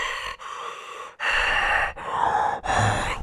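A man imitating heavy mouth breathing: four loud, drawn-out rasping breaths in a slow, even rhythm, close to the mic and alone.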